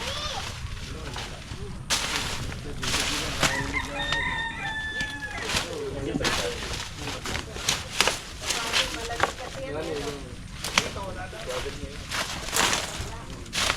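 A rooster crows and chickens cluck nearby while people talk over scratchy outdoor background noise.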